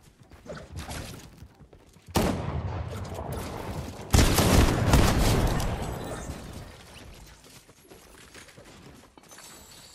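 Fortnite gunfire bursts loud and dense, a sharp onset near two seconds and another heavy volley around four seconds, then tapering into quieter rattling combat noise.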